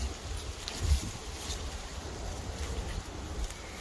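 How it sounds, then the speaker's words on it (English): Wind blows outdoors in a garden with fruit trees, producing a low, rumbling buffet with uneven gusts and a soft background hiss, moderately loud and without any talking. "today it's windy"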